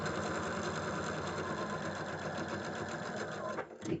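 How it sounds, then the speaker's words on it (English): A sewing machine stitching quilt block fabric, a fast continuous mechanical whirr with rapid needle rhythm that stops abruptly near the end, followed by a short clunk. "So I'm going to just sew, hoping I did pick the right direction."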